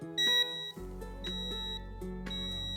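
A brake fluid tester beeps in short repeated tones, a steady electrical hum underneath, the beeps recurring at roughly even intervals close to the listener.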